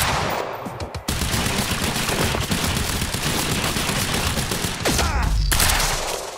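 A shotgun enemy in the video game Quantum Break fires amid a dense fusillade, rapid gunshots and machine-gun-like bursts running loud and continuous with a few sharper blasts, no talk.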